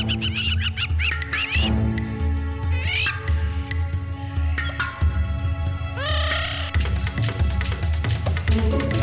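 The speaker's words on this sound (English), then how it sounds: "After such a promising start, Mitch has now lost the Whiskers trail, thanks to the overzealous plovers" Agitated plovers give repeated shrill, rising squawks and calls while mobbing a meerkat on open ground, the harsh cries coming in close, overlapping bursts.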